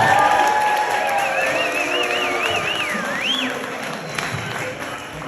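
Audience applause and cheering at a book release event at Shopify, sustained and fairly loud, with whistles and scattered voices mixed into the crowd noise.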